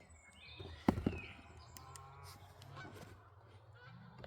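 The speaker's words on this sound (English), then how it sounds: "Ooh, some geese coming over here, look at these." Geese honk a couple of times overhead, sharp calls over a quiet outdoor background with faint bird chirps.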